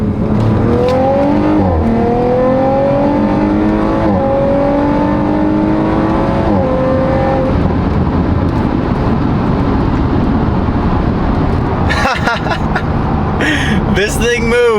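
A lowered turbocharged Corvette accelerates hard, its engine tone climbing in repeated rising sweeps broken by quick, smooth gear shifts, loud and continuous inside the car, with brief bursts of sharp noise near the end.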